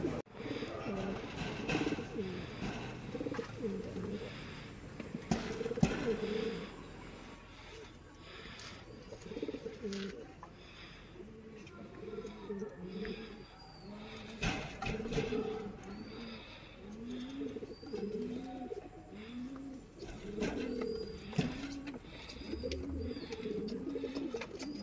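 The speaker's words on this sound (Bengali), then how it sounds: "এইখানে দেখেন কবুতর দেখাচ্ছি" Pigeons in a coop coo repeatedly in soft, low, rolling phrases that overlap throughout, with occasional knocks and movement noise and no clear talking.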